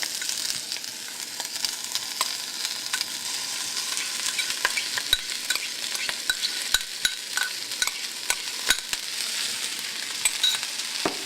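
Rice and vegetables stir-fried in a pan, a steady bright sizzle with frequent quick scrapes and taps of a utensil stirring through, close and continuous with no voices.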